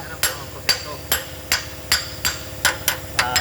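A hammer taps repeatedly on a car part being fitted between the transmission and engine, about nine sharp, evenly spaced metallic knocks, close and clear with no talking.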